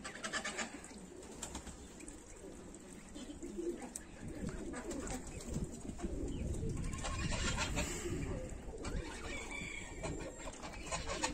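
Baku pigeons coo steadily in a loft, several birds overlapping in low rolling calls that swell louder toward the middle, with wing flutters and soft background rustle.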